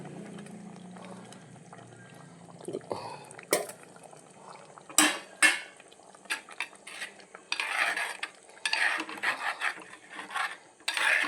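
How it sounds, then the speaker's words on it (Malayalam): A metal spoon scrapes and clanks against the bottom of a pot of Kerala fish curry made with coconut oil and curry leaves, in irregular bursts of stirring that grow busier after a quiet start. "ഒരുപോലെ ആവാൻ വേണ്ടിയിട്ടാണ് ഇങ്ങനെ അടിയോടെ ഇളക്കുന്നത്"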